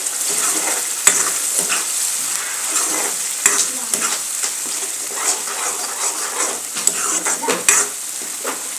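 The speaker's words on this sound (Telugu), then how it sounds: "మధ్య మధ్యలో కలుపుతా పేస్ట్ అంతా కూడా ఫ్రై చేసాను" Ginger garlic paste fries in a pan for a stuffed ivy gourd curry, with a crackling sizzle and repeated scraping stir strokes and spoon taps close by.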